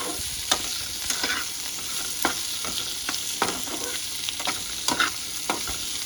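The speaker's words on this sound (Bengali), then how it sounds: "আমি এদিকে পেঁয়াজ শুকনো লঙ্কা একটু মৌরি দিয়ে সটে করে নেব।" Onion, dried chilli and fennel seeds sauté in a pan with a steady close sizzle, punctuated by repeated sharp scrapes and taps of a spatula stirring.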